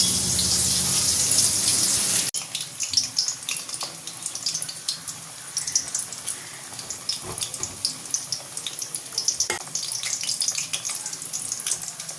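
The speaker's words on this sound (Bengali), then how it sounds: "সেই যে কাল বৃষ্টি শুরু হয়েছে সেই বৃষ্টি পড়েই যাচ্ছে" Steady broadband splashing and pattering of water, dense and continuous, with a louder hiss in the first two seconds; no voices.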